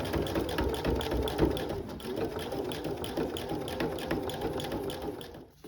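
A sewing machine fitted with a piping foot stitches piping along an earlier stitch line, running steadily and alone for several seconds with a continuous motor whir and rapid needle clatter before stopping near the end.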